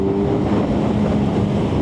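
A 2024 Kawasaki 1000SX sports tourer in sport mode pulls hard, its engine a loud, steady droning roar heard from on board, thick with wind rush.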